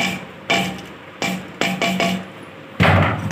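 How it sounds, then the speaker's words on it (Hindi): Taro leaves being mashed in a pot with a wooden saag masher, a series of about five dull, hard knocks at uneven intervals, close and fairly loud. "इसको ग्राइंड कर लूँगी इसकी सहायता से, इसको साग घोटना बोलते हैं"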